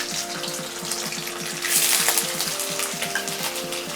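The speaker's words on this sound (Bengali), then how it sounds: "আমি কড়াইতে সর্ষের তেল নিয়ে নিয়েছি, তার মধ্যে আমি পনিরগুলো দিয়ে দিচ্ছি।" Paneer pieces fry in mustard oil in a kadai, giving a steady hissing sizzle with a few clinks of utensils throughout, swelling louder in the middle.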